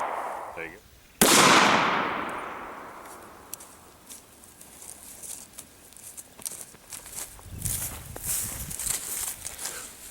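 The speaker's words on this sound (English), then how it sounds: "Fire off 3 rounds." Three rounds of Underwood Gold Dot 380 +P ammunition fired outdoors at about 300 feet elevation; one loud, sharp report opens with a long decaying echo, followed by scattered softer pops and rustling.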